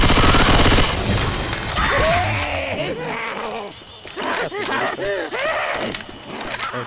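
Shotgun blasts in the zombie shooter Left 4 Dead, a loud burst of gunfire at the start fading into a chaotic mix of groans and moaning infected, with voices talking over the action.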